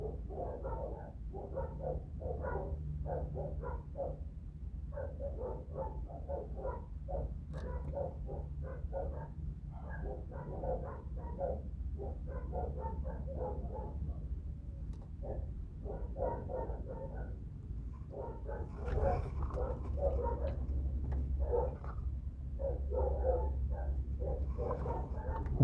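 Dogs bark repeatedly outside a van, a long run of quick, mid-distance yaps and woofs over a constant low engine-like hum, without any talk.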